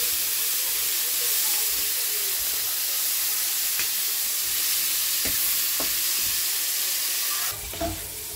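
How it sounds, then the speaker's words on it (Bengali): Red prawns from Paris, rubbed with salt and turmeric, frying in hot olive oil in a pan, giving a steady close broadband sizzle with a few light stirring knocks toward the end and no talk. "চিংড়ি মাছটা আমি ভেজে নেবো।"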